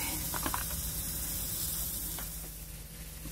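Italian sausages cook in a pan, giving a steady, soft sizzle with faint crackles and pops throughout, fairly quiet and close, with no talking.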